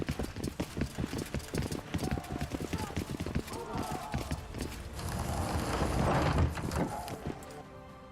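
Horse hooves in the video game The Witcher 2 beat out a steady, fast clip-clop throughout, with a swelling rumble of other game sounds building toward the end.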